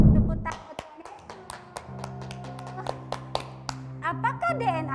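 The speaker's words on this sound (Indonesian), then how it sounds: "Tepuk tangan buat Tuhan Yesus." Hands clap together at an online Sunday school during a song of praise to Jesus, sharp claps ringing out over a sustained keyboard chord, with voices singing and speaking along.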